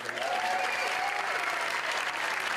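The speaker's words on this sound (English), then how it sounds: "Give them a round of applause." A theater audience at a Dancing With the Local Stars charity dance event claps loudly and continuously for the sponsors, a dense, steady wash of applause from many hands with no break.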